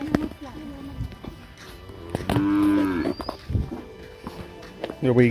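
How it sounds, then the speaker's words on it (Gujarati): A cow and its calf on a village farm give several loud, close moos, long drawn calls between shuffling steps, with people talking around them. "ગાય ગાય ગાયનું વાછરડું"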